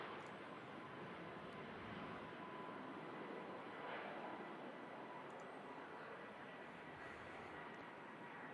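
A Boeing 737 MAX 8 departs runway 23 left at Manchester Airport, its jet engines a faint, steady distant roar with a broad rushing wash that holds throughout, no voices.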